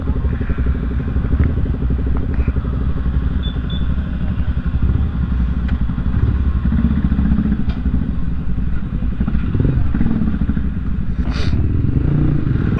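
A scooter engine hums loudly and steadily throughout, with small rattles and a brief faint voice partway through.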